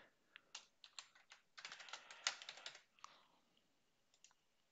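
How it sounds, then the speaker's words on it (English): A computer keyboard is tapped to enter a domain password, a quick run of light clicks that speeds into a dense burst, then thins to a few scattered keystrokes, close and alone. "I will type my domain password"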